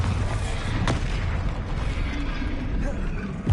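Bombarda explosion spell in Hogwarts Legacy: a dense, continuous rumbling blast with a sharp crack near the start, loud and sustained under game music and effects, ending in a final burst.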